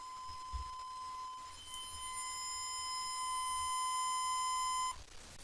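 A steady 1,000 Hz test tone sounds alone for about five seconds, pure and continuous at moderate loudness, then stops abruptly.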